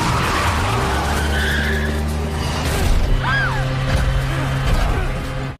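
Car tires skidding and squealing during a film car chase, long loud screeches over roaring engines, with a sharp tire squeal midway and a sudden cutoff at the end.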